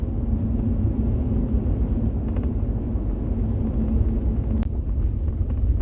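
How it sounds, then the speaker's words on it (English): Inside a Nissan Titan pickup on a road test, a steady low road and engine rumble drones throughout, close and continuous, with a faint tick near the end and no speech. "We're taking it out for a bit of a road test right now"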